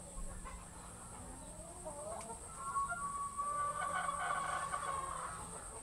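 Asil Shamo chickens on a free-range farm cluck and call softly at a moderate distance over a steady background hum, with a few brief squawks scattered through.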